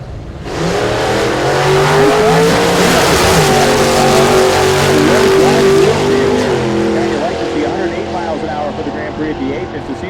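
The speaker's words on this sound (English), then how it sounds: "Mark Cicino running in small block power adder, street race small block power adder, and Gebhardt in the modified naturally aspirated" At Hot Rod Drag Week, a small block power adder drag car and a modified naturally aspirated hot rod launch down the strip with a loud, sustained engine roar that climbs through the gears and then fades into the distance.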